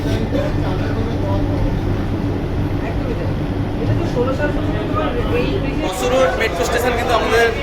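Kolkata Metro train pulling out of an underground station on its first commercial run: a steady loud rumble and whine of the moving train fills the whole stretch, with someone talking throughout.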